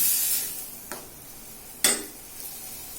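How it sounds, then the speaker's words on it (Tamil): Curry leaves sautéing in a pan for a blood stir-fry, giving a steady soft sizzle with two sharp stirring scrapes, one louder near the end, and no talk. "கருவேப்பிலையும் போட்டுடலாங்க நல்லா வதங்கணும்"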